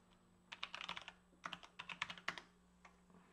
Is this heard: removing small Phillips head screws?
no